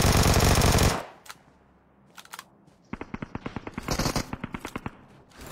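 Video game gunfire: a loud burst of automatic fire, then a pause, followed by rapid repeated shots crackling in quick bursts with some echo.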